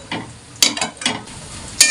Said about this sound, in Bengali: মশলাটা কষাবো তার আগে পেঁয়াজটা ভেজে নিচ্ছি